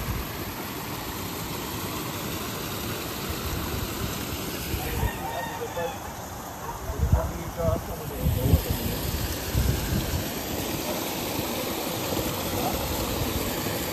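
Heavy, steady typhoon floodwater rushes and roars throughout as a broad continuous wash in Cebu, with voices briefly talking over it in the middle.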